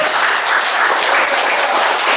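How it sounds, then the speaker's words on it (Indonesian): A church synod crowd at Stasi Maria Ratu Rosari in Banda Sari village applauds the station chairman, producing a dense, steady wash of many hands clapping close by for about two seconds without letup. "saya mohon atau saya minta kita beri aplaus untuk ketua stasi"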